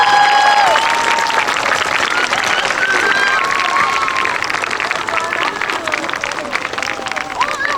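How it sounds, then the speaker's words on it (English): A school audience applauds Mrs. Roberts, honored for 29 years of service, with sustained clapping and a few cheers that stay loud and steady, with crowd voices mixed in. "Let's give her a big round of applause,"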